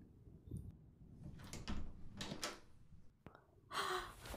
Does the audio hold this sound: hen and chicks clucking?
no